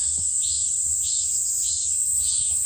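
Cicadas sing in a family vegetable garden: a steady, shrill, high-pitched drone that holds unbroken at a constant loudness throughout, with faint low rumbling underneath.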